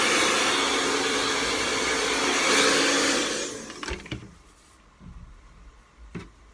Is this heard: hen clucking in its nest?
no